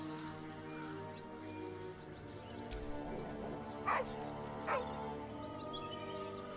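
A dog in the Baldur's Gate 3 video game gives two short barks in the middle, about a second apart, over steady in-game ambience and music.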